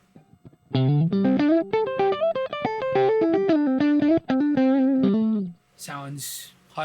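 Electric guitar through a NUX Trident pedal set to normal input 2, hotter and slightly fuzzy, playing a steady run of close, sustained notes for about five seconds before a voice speaks briefly at the end.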